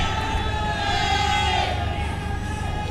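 A stadium crowd at a youth football match between Guardian Angel SC and SESA Football Academy keeps up a steady, dense roar of cheering and shouting, with no single voice standing out from the continuous wash.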